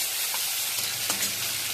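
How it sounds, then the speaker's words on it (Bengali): Fish sizzling in hot oil in a karai, a steady close crackle and hiss of frying throughout. "তেল গরম হয়ে গেছে, মাছগুলো আমি ছেড়ে দিচ্ছি।"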